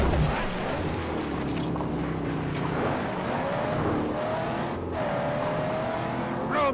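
A car in the Mad Max video game drives with a steady, loud engine roar, rising and shifting pitch through the gears, with a faint tire squeal.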